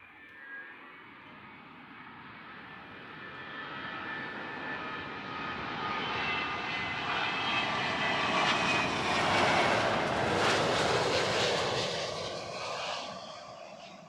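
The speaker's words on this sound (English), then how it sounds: "So StatCam is picking up United Airlines flight 948 from San Francisco. That is a 777-200." A United Airlines Boeing 777-200 arriving from San Francisco passes at Heathrow Airport, its jet roar swelling from far off to a loud peak and then fading, heard alone without talk.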